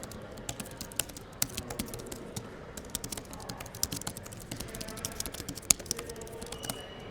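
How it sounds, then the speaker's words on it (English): Quiet, quick typing on the keyboard cover of a Galaxy Tab S10 Ultra tablet, a close run of soft, uneven key clicks and taps with no talking. "The keyboard's exceptionally nice to type on too. You can take a look and a listen"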